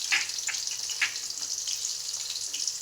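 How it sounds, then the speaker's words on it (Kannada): Oil frying in a pan for avalakki chuda, a steady bright hiss with a few sharper crackles and pops near the start, close and continuous with no talk. "ಇದನ್ನೂ ಚೆನ್ನಾಗಿ ಫ್ರೈ ಆಗಬೇಕು."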